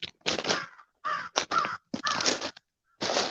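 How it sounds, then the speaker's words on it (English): Crows caw in the woods, several loud harsh calls in quick bursts with short gaps, fairly close and with no talking over them. "We got tons of crows around here right now."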